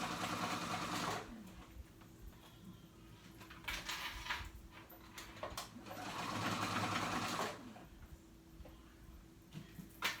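A sewing machine stitches a woven peasant dress in close, rapid whirring bursts separated by short pauses, the motor starting and stopping while the fabric is guided and pins are removed.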